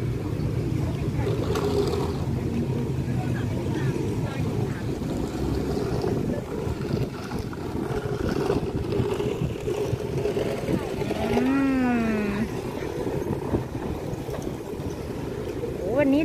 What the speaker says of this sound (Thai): ลมแรงนะคะตรงนี้